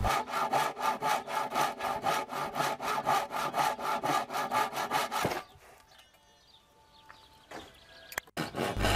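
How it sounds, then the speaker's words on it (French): A Japanese pull saw cuts wood for a Les Paul guitar body, about twenty even rasping strokes in quick rhythm, then the sawing stops and a quieter stretch of faint handling noise and a sharp knock follows. "j'utilise une scie japonaise"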